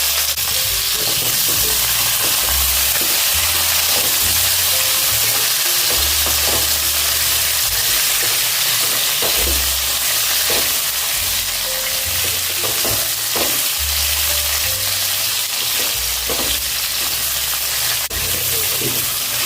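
Potatoes fry for pulao in an oiled pan, giving a loud, continuous sizzle with a steady hiss and occasional stirring scrapes throughout.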